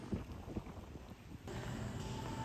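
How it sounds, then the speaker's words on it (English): Gusty night wind in Old Town Albuquerque, New Mexico, rumbles and buffets against the microphone, turning into a steady low roar partway through. "It's a little windy tonight"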